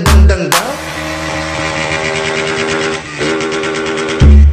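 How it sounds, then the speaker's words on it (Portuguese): Motorcycles ridden by local kids doing wheelies in Içara, engines revving loudly and close with harmonic whine, sharp throttle bursts at the start and end, no talk. "A molecada que fica de gandaia aqui com as motos fazendo"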